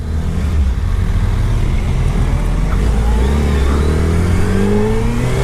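Engine of a 2019 or 2020 Suzuki Hayabusa heavy sport motorcycle, a steady, loud low rumble with rising revs held throughout, close and continuous with no talking.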